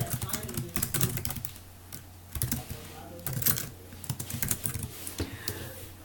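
Keys clatter in rapid, uneven bursts as text is typed on a computer keyboard in Photoshop, close and fairly loud, with a low hum and a brief voice underneath at times.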